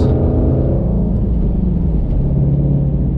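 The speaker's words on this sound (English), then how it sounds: "This car just sounds like it's mad." A deep, throaty Ford Mustang GT350 engine rumbles steadily at idle, loud and close, with a low growling texture and no voices.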